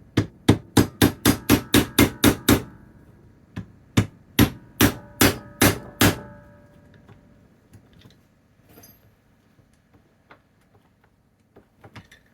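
Sharp metal-on-metal hammer strikes drive a broken-tipped punch into a pop-up headlight part on a C4 Corvette: a fast run of about ten blows, then a second burst of five, then faint scattered taps fading out.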